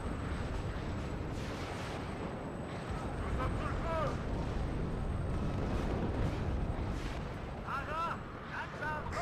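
Artillery fire and shell explosions in the video game WARNO, with dull booms and rumbling blasts in a continuous barrage, heard at low level beneath frequent shouted voice commands and radio-style chatter.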